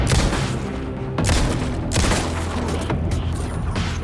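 Gunshots in the video game Alan Wake 2 ring out as a few sharp, loud reports spaced about a second apart over a rumbling game background.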